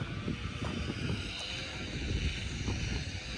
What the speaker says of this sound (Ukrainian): Блін, вітер.